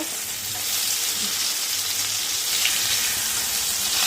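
Eggplant fries in hot oil tempered with nigella seeds and green chili, giving a loud, steady, unbroken sizzle throughout with no talking.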